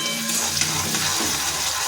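Onions frying in a pan give a steady, close, fairly loud sizzle that holds an even hiss throughout with no breaks and no voices.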